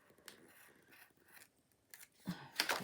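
A few soft clicks and short scraping cuts from a small blade slicing paper, quiet and close, with brief pauses between strokes.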